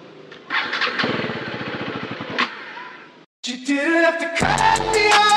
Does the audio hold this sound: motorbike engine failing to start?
yes